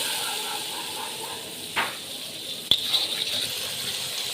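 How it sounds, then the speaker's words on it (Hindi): Half a cup of water goes into a chicken karahi full of spices, including Kashmiri red chili. A close, hissing sizzle rises with a brief gush and a sharp clatter, then settles into a soft, steady simmering hiss. "आधा कप पानी का डालेंगे।"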